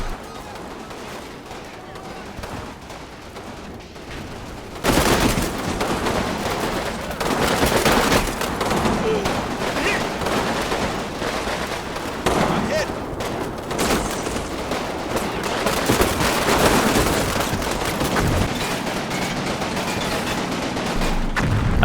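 Machine gun fire from a second-floor nest in the Combat Mission Battle for Normandy wargame, catching a repositioning American mortar; quiet at first, then dense, sustained bursts of gunfire and explosions that stay loud and chaotic to the end.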